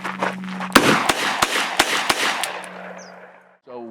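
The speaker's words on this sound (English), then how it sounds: "So what I want to do is practice drawing the weapon, acquiring sight, and firing to stop the threat." Five sharp handgun shots from a small pistol ring out in open desert, fired in a quick uneven sequence with a ringing decay between reports.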